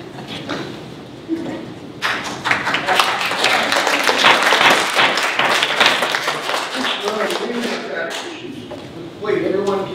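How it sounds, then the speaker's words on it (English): Applause swells at a public forum on Grailville re-zoning, a dense wash of many hands clapping that builds and holds for several seconds before thinning, with voices mixed in and a speaker resuming near the end. "everyone keep your applause to yourself"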